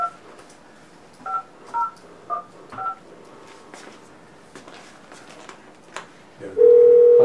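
Several short, evenly spaced touch-tone beeps of a telephone being dialed, clear and fairly loud, ending in a steady sustained tone.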